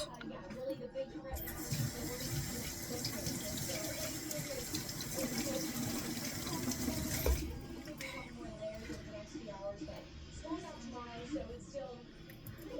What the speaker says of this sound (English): again, I'm going to wash my hands